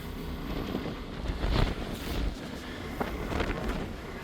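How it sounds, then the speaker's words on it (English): Wind buffets the microphone on an open ferry deck, a steady roaring rush with gusty swells and low rumble of the vessel underneath. "Whoa, it's windy."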